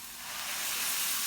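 Water poured into a hot frying pan of browned bolognese meat bits hisses and sizzles, building quickly to a loud, steady steam rush with no voices.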